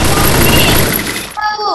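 Video game gunfire bursts out loud and dense in rapid succession, then cuts off to quieter game sounds.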